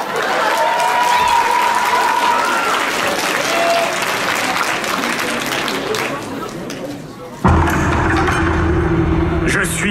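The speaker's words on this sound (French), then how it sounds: "Et là, un tonnerre d'applaudissements, s'il vous plaît, pour Rumpelstiltskin." Loud, sustained audience applause fills a theatre-style show, a dense wash of many clapping hands that carries on, then shifts abruptly into a different, rumbling crowd sound near the end.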